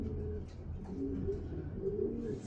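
A racing pigeon coos softly in a loft, a few low, rolling coos in close succession at modest volume.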